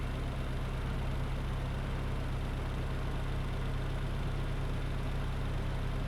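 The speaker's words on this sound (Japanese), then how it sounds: "近接エンジン音量" A Mitsubishi Lancer EX Turbo engine idling steadily right up close, a constant low rumble and hum at about 75 decibels with no change in pitch and no voices.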